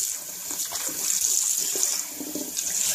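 Tap water pours steadily into a pot as it is refilled, a close, continuous splashing rush with no voices.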